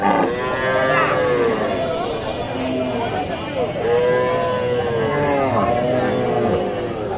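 Large Holstein Friesian cows at a cattle market in Bogura, with repeated loud, drawn-out moos from nearby animals over a murmur of market noise and some talk.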